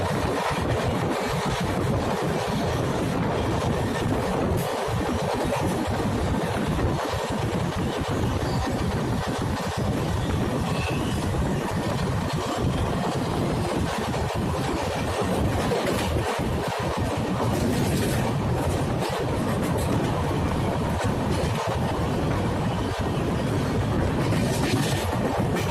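Garib Rath Express train running on rails near Narela on the Delhi–Amritsar route, a steady loud rumble of wheels and wind filling the whole span without a break, with no talk over it.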